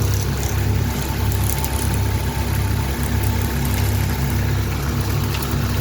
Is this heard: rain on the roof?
no